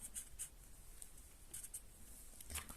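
A pencil scratches around the outline of a hand laid on paper, quiet, close strokes in short bursts with brief pauses between them.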